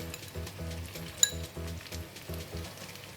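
Shiitake mushrooms and dried shrimp fry in onion oil for a taro cake, giving a soft, steady sizzle under a pulsing low hum, with one sharp clink of a utensil partway through.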